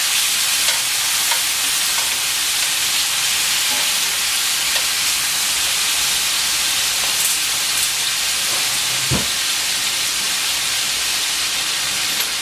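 Thinly sliced rib eye steak frying in a pan, a loud, unbroken hiss and sizzle held close throughout, with one brief clunk partway through.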